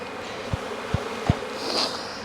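Honeybees hum softly around an opened hive in Jacksonville, Florida, while three dull thumps from handling the hive land at a steady pace.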